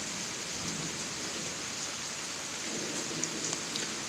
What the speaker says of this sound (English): More rain coming in equals.